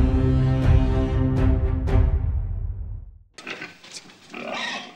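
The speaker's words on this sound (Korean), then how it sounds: "돼지 도살하는 장면을 보여주며 영화는 시작합니다" A pig squeals loudly in a slaughter scene, with harsh, sustained cries repeating over about three seconds before the sound cuts to a quieter, noisier stretch of different background activity.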